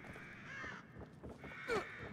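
Crows caw in the survival horror video game The Evil Within, a few hoarse calls with a sharp one near the end, fairly close over a low ambient game drone, no voices.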